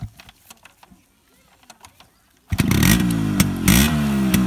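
A Yamaha RX100 two-stroke motorcycle struggling through a cold start in the morning: after quiet shuffling, the engine abruptly catches and roars close by, revving hard with a rising and falling buzzy pitch.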